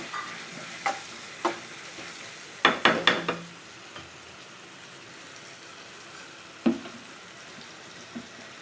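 Prawns fry in a pan under a low steady sizzle, with occasional sharp scrapes and clatters as they are stirred, including a quick cluster of knocks partway through.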